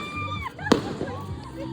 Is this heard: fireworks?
yes